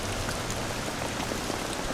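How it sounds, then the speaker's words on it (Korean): Steady rain at the start of a marathon, a dense even patter of drops on hard surfaces, close and continuous with no voices. "경기 초반에 비가 내리기 시작합니다."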